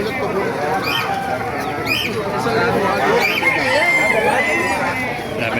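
Roosters crow several times at a bustling chicken market in Calumpit, with a steady hubbub of crowd chatter and nearby voices underneath.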